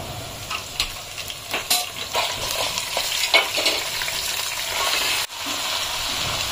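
Mutton pieces hit a hot pan of golden fried onions for Kolhapuri tambda rassa, setting off a steady close sizzle with scraping stirs and clinks of the spoon against the pan.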